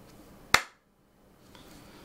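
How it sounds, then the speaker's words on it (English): A single sharp hand clap rings out close to the microphone for an audio sync check, decaying quickly into near silence, with faint room noise returning afterward. "let me just do a quick clap test here"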